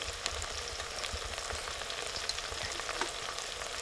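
Spices, including turmeric, sizzle in a hot pan for an okra-fenugreek buttermilk curry: a steady, close crackling hiss with small pops throughout and no talking.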